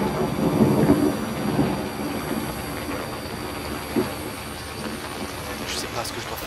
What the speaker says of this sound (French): Calme-toi, calme-toi l'orage.